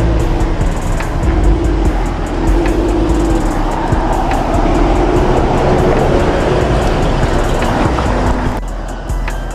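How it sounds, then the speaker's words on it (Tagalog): Cars crawl in heavy traffic on a mountain road in the Benguet highlands, a dense, steady roar of engines and tires with rushing wind, continuous and close throughout, ending abruptly near the end. "Dami ng sasakyan eh."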